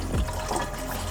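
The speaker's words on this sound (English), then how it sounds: "So we're able to pour in the methanol" Methanol pours into a water-methanol injection tank on a Ford Focus ST, a short burst of liquid gurgling and splashing into the reservoir.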